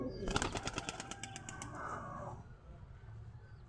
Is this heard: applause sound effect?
no